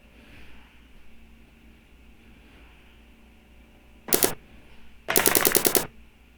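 Automatic gunfire from the Las Vegas shooting in a recording: a single short burst, then after a pause a longer rapid burst of cracks, loud against a faint quiet background.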